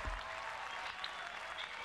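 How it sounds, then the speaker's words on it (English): Overdubbed applause at a Microsoft E3 2012 conference sounds thin and distant, a soft, even wash of clapping that holds steady for a couple of seconds. "That applause is overdubbed."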